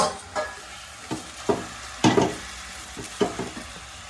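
Noodles with tomato and other sauces are stirred in a frying pan, with a spatula scraping and clacking in irregular strokes over a light sizzle, close up and with no talking.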